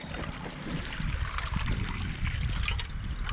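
Water trickles and splashes steadily as it is pumped over a frozen ice surface to fill air bubbles, a close, continuous wash of liquid with no talk.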